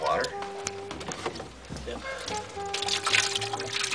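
Water trickles and splashes in a thin stream from a sink, close by, with a voice talking over it and a faint tonal hum in the background.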